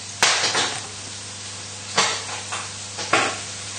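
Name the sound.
chicken livers sizzling in pan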